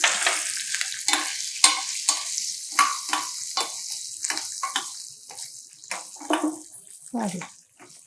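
Green chilies and a pinch of asafoetida for raw mango pulihora hit hot oil, and the sizzle rises in bursts with stirring scrapes and clatters over a few seconds, close and moderately loud.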